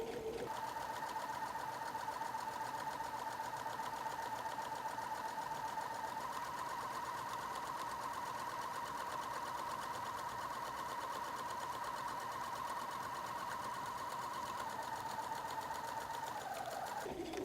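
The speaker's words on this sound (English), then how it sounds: "I back stitch, and then I'm going to stitch all the way across the top here." A sewing machine stitches steadily across the top of a messenger bag, a fast even mechanical whir running unbroken for most of the clip before stopping near the end, with no voices.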